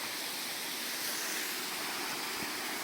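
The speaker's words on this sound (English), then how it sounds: "The top of the waterfall." The top of the waterfall at Middle Black Clough roars as a steady, loud, broadband rush of falling water with no voices.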